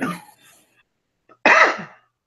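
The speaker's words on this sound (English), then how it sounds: "I'm coughing." A single raspy cough bursts out close by after a brief throat sound and a moment of quiet.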